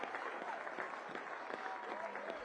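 Crowd applause at a Leeds United Women versus Barnsley FC Women football match, a moderate ongoing patter of clapping under a commentator's voice.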